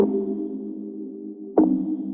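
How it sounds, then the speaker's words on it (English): A synth pluck from the making of a song rings out with a sustained tonal tail, then a second pluck strikes near the end and decays, clean and alone. "We're taking this plucking sound into a new project."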